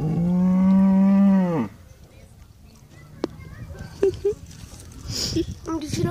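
A cow on a farm gives one long, loud, close moo that drops off sharply. Quieter rustling follows, with a few short knocks and people talking nearby.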